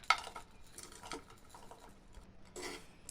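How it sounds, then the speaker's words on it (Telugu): Ladle stirring wheat flour and jaggery in a pan, faint scraping strokes with a sharp clink at the start and another scrape burst near the end, quiet and close. "గోధుమ పిండిలో బెల్లం బాగా కలిసేటట్టుగా కలుపుకోవాలి"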